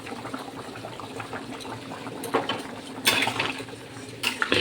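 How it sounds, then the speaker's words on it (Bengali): Mutton simmers in a covered pot, a soft bubbling burble close by, interrupted by a few sharp metallic clatters of the lid and utensils. "মাংসটা খুব সুন্দর ফুটছে।"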